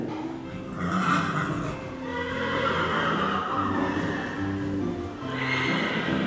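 A horse performing a dressage test at an equestrian event whinnies loudly and repeatedly, with hoof clip-clops and arena noise around it and no speech.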